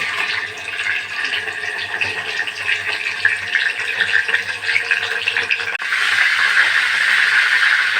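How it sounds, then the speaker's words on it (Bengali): Chicken roast pieces fry in hot oil in a pan, giving a loud, continuous close-up hiss and sizzle that swells into a stronger steady rush toward the end. "রোস্টটা আমরা কিছুটা ভেজে নেব"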